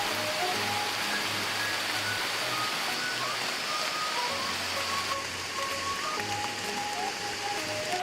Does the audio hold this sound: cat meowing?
no